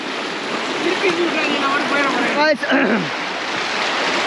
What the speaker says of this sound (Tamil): ஏங்க தண்ணி அந்தளவுக்கு இழுக்குது